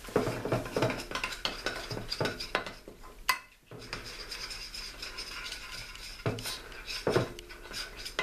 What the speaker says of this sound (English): you want to stir this in for about 1 minute or at least 45 seconds